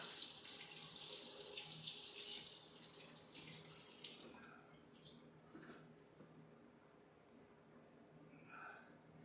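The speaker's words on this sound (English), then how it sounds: "and rinse it with hot water" Hot tap water runs steadily from a faucet for rinsing winemaking equipment, then shuts off, leaving faint drips and small clinks in a quiet room.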